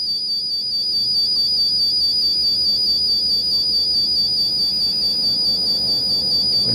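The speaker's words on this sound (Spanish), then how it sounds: "Bueno, esa es la alarma." A battery charger's alarm sounds as a steady, continuous high-pitched electronic tone over a constant low hum, with no talk.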